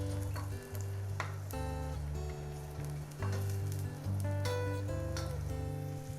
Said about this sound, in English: Now that my onions are sauteing